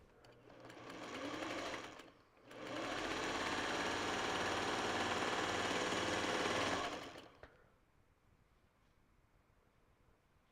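A sewing machine stitches quilt fabric on point in close, loud, steady whirring runs: a short burst, a brief pause, then a longer continuous run that stops abruptly, leaving quiet room tone.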